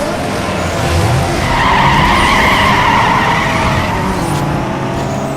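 A car in the racing video game Need for Speed Underground 2 slides with a long continuous tire squeal over a steady engine roar, loud and sustained throughout.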